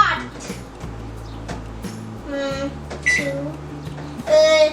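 A microwave oven runs with a steady low hum while baking an eggless mug cake, broken by a few short high beeps near the middle and end, with a faint voice in the background.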